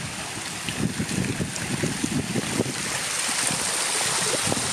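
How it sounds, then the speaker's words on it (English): A small water feature runs outside a building, giving a steady, close splashing and trickling wash that fills the whole stretch without a break and with no voices. "Little water feature along the way."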